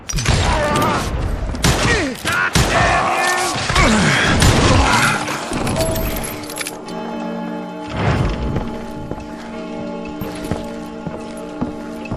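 Rapid gunfire in the Wild West shooter Call of Juarez: Gunslinger, loud, dense shots and clattering impacts packed into the first seven seconds, then sparser bursts over a steady drone with voices mixed in.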